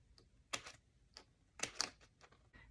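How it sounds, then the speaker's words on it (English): Scissors snipping small slits into the punched holes of planner paper, a few quiet, sharp crisp snips spaced irregularly, close up in a quiet room. "we're just gonna take our scissors and make a little slit in each hole."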